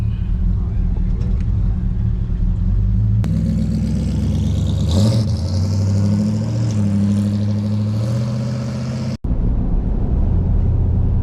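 A 1949 Chevy car engine pulls through a hard run, a loud mid-pitched roar that builds and climbs in pitch before cutting off abruptly near the end, with speech partly audible over it.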